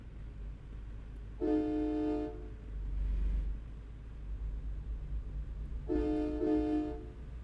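A truck horn in American Truck Simulator sounds in two bursts, a single blast and then a double toot, loud and tonal over a low engine rumble as a train passes near a riverside dock in Iowa.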